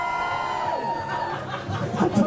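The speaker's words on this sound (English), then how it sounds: "Can you give us a cheer if you think Flipperpool won that?" A crowd cheers at a Bristol robot combat event, with mixed shouting, laughter and chatter rising toward the end amid a busy, echoing hall.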